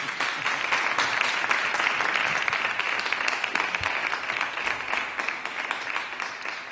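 Sustained audience applause for a band at an acoustic radio concert, a steady wash of many hands clapping at close range that slowly tapers off.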